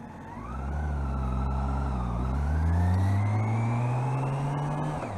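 A car closing in from behind a motorcycle in traffic, its engine note rising and swelling steadily as it nears, mixed with the bike's own engine drone and passing traffic hum; no talking.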